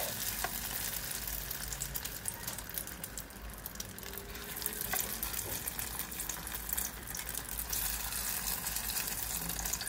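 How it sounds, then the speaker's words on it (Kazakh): Eggplant slices dipped in egg sizzle in hot oil, a steady crackling fry with occasional sharper pops, fairly quiet and close, with no one speaking. "Дайын болған баклажандарымызды 2 жағын жұмыртқаға малып алып, қызып тұрған майымызға қуырып аламыз"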